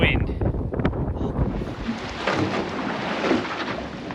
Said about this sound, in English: there's a fair bit of wind